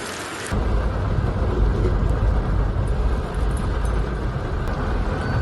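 Dense, steady roar of heavy monsoon rain falling in Mumbai's eastern suburbs, broadband and continuous, starting suddenly and holding constant with no speech.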